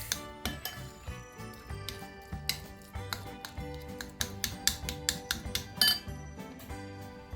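A spoon clinks and taps repeatedly against a bowl while guacamole is mixed, a steady run of close, bright knocks with no talking.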